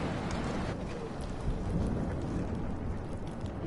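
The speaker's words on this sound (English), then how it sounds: "No more storms." Heavy rain pours steadily in a thunderstorm in the video game Life is Strange, with low rumbling thunder mixed into a dense, constant roar and no voices.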